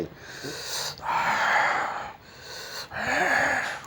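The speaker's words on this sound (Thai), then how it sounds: "หายใจเข้าลึกๆ แล้วก็ผ่อน ออกเบาๆ ด้วยลมหายใจ" Deep breaths drawn in and slowly released during a lung-strengthening breathing exercise. Two full, close breath cycles of loud airy rushing are heard, each slightly wheezy and separated by brief pauses, with no speech.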